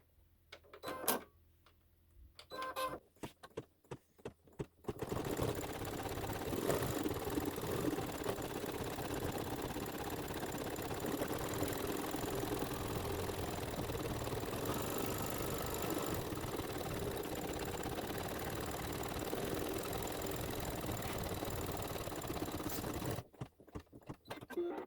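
An embroidery machine stitches a satin edge on a hat in a Santa's Workshop quilt block, running as a steady, loud mechanical whir for about twenty seconds between brief stops and clicks at start and end.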